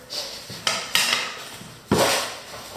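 Metal tools clatter and clink as a hammer is lifted from among them during a Porsche Cayenne transfer case rebuild, several bright jangling impacts in close succession, nearby and fairly loud.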